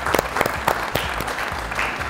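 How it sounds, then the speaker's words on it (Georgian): A television comedy show audience claps to encourage a contestant, a short burst of fairly sparse applause heard close by. "ჯერ აპლოდისმენტებით გაგამხნევებთ."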